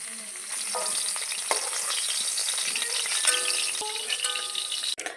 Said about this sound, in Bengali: আলুগুলো লাল লাল করে ভাজা হয়ে গিয়েছে